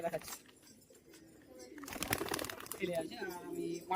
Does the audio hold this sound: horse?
no